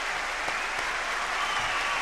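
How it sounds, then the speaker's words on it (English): A concert crowd applauds and cheers at the end of a song in a live rock show, a steady wash of clapping heard from a distance, with no music playing. "Fun ending. Crowd loves it."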